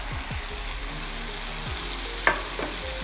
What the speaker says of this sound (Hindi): इसको अच्छी तरह भून लें, तकरीबन 3 मिनट लगेंगे इसको फ्राई करते हुए